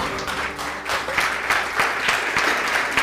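A church congregation applauds, a full, sustained round of clapping from many people that swells slightly and stays steady throughout, with faint voices beneath.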